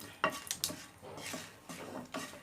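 Green chilies fry in a little mustard oil in a pan over medium-low heat, a soft sizzle broken by several clinks and scrapes of a spoon stirring against the pan.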